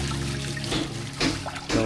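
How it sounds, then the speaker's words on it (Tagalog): Water runs steadily from an outdoor tap with no shutoff valve at a forest campsite, a continuous trickling splash over a low background hum, close by and fairly quiet. "dito ang gripo, walang switch kasi unlimited ang tubig."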